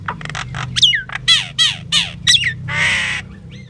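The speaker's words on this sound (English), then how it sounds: "the hungry birds flew down from the trees" Hungry birds flying down from trees to be fed give a quick series of loud, close squawks and harsh calls, several separate cries ending in one longer rasping call.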